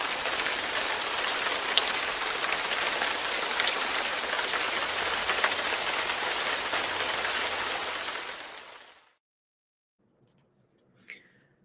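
Steady, loud rain pouring down on a surface for about nine seconds, then stopping abruptly into near silence with one faint brief sound near the end.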